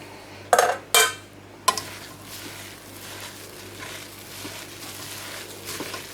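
Squeezed soya chunks for soya Manchurian being mixed in a bowl, opening with three loud metallic clanks of a utensil against the bowl, then a steady, soft scraping and rustling of mixing.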